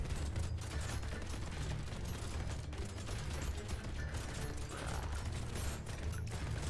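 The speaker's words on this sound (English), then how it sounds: "And now chain gun, do the thing." A chain gun fires continuously in a video game, a loud, steady mechanical rattle of rapid shots that runs without pause for the whole stretch.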